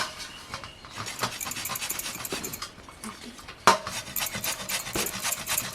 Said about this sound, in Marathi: आता हे बघ तिला किसून घ्यायचा पुरा.